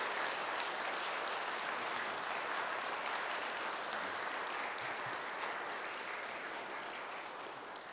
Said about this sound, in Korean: 여러분들 격려와 감사의 박수 다시 한번 부탁드리겠습니다